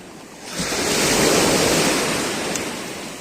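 Sea waves breaking on the Black Sea shore at Odesa, a broad, loud rushing wash that swells in, peaks, and slowly recedes, with wind noise and no voices.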